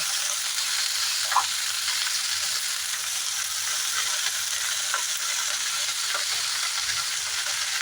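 Radish greens hit a hot frying pan and sizzle steadily, a bright continuous hiss with faint stirring clicks throughout, close and alone with no voices.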